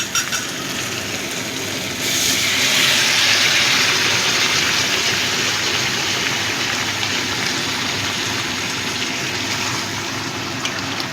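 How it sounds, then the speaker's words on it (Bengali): Hot water poured into a pan of simmering potato, pumpkin and drumstick curry cooked with mustard and poppy seed, a steady close rushing gush that swells louder partway through and keeps flowing without speech. "এবার আমি দিয়ে দিচ্ছি পরিমাণ মতো গরম জল"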